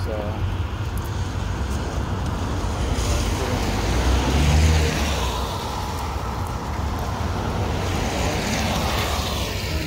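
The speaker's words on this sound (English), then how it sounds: "We got a few more cars coming," Cars rolling past on a roadway near BWI airport, a steady broadband traffic roar with one louder vehicle swelling by mid-clip, heard close from a sidewalk with occasional voice in the background.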